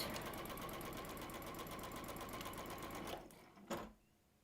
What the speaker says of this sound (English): So again, stitching down towards my little dart point.